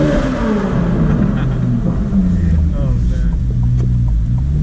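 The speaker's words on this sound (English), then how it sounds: "when you're in that mode where you can free rev the car, the throttle response is really turned up" A 2023 Corvette Z06 prototype's engine revs freely with sharp throttle response, giving a loud, close rumble that rises and falls under someone talking.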